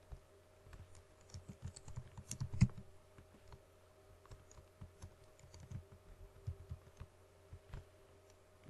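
An email address being typed on a computer keyboard: quiet, irregular clicks of keystrokes in bursts over a faint steady hum, with no one speaking.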